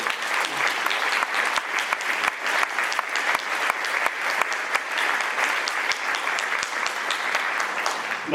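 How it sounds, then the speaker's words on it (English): Dense audience applause fills a school's 100th-anniversary open house, a steady roar of many hands clapping at once that holds loud and even from start to finish. "But I think we should give an applause to all of our amazing"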